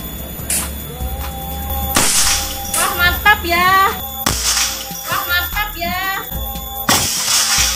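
A PCP Marauder Benjamin air rifle fires at a target that shatters, giving several sharp, loud bursts spread out over the moment, with voices talking in between.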